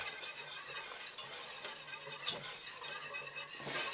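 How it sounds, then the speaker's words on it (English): A spoon steadily stirs and scrapes flour into pork green chili in a pot to build a roux, with a soft sizzle underneath and occasional louder scrapes, close and continuous, no talking. "start mixing in my flour. A little at a time, keep mixing it up"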